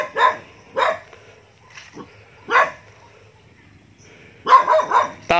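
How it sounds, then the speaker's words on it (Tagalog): A dog at a house barks several times, in short sharp bursts of one or two barks with quiet gaps between them, fairly close and clear with no talk over it. "Aso yung nandun."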